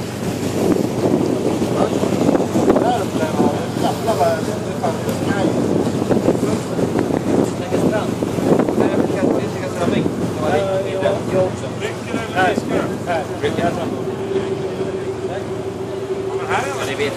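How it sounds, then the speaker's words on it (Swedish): Small canal launch on the Strömma canal, a steam-launch style boat, running steadily with broad engine and water rumble and gusting wind buffeting the microphone, while people talk over it throughout. "Vi är och färdas med Strömma kanals lilla ångslu."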